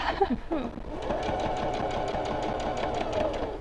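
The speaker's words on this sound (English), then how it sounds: "So I'm just sewing 1/4 inch." Sewing machine stitching fabric at a quarter-inch seam, a steady rapid mechanical whir with fast needle clatter, close and continuous after a brief start.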